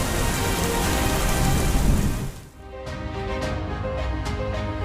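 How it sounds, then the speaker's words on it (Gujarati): Heavy downpour over Bhavnagar roars as a dense, loud wash of rain, then thins after a couple of seconds into lighter rain with distinct drips tapping near a surface. "પ્રારંભે જ પ્રચંડ વરસાદનું આગમન થઈ ચૂક્યું છે"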